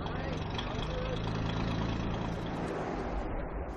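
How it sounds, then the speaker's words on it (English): Freefall lifeboat engine running steadily, a continuous low mechanical drone with a broad noisy hum that stays close and loud throughout. "The lifeboat engine must also be started and operated."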